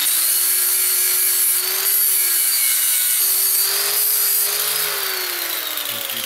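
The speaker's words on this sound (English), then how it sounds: "We're gonna take and grind." An angle grinder grinds down weld on a rusted, broken bolt during exhaust stud extraction, with a loud, continuous close-up whine that dips slightly in pitch as it bites under load; no talking.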